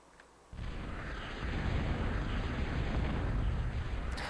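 Nuclear bombing of a base in a real-time strategy video game, a sudden loud blast followed by a sustained roaring rumble of explosions.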